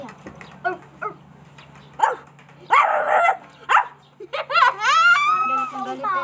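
A person imitates a dog barking with a few short vocal yaps amid lively talking, close and fairly loud.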